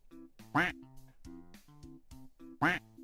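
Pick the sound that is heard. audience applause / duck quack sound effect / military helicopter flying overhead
duck quack sound effect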